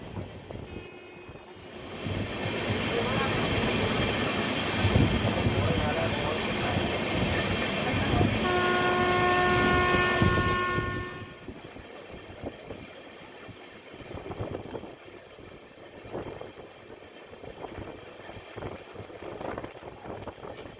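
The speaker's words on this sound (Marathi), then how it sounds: "आपली गाडी आता मुंडेवाडी रेल्वे स्टेशन सोडून पुढे जात आहे" An intercity passenger train between Jeur and Solapur, India, rumbles along steadily with rhythmic wheel clatter and rushing wind, loud at first, then easing into a quieter rolling rattle after leaving Mundewadi station.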